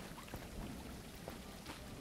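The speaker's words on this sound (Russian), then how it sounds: "Дождь, что ли, намечается?" Rain in the video game Elder Legacy, a faint continuous hiss with a few soft patters scattered throughout, distant and low-level with no voices.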